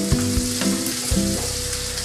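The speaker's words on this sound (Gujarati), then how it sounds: "અને ચમચાની મદદથી આપણે હલાવીશું" Finely chopped onion fries in oil while a spoon stirs it, giving a constant close sizzle broken by a few soft scraping knocks of the spoon against the pan, with no speech.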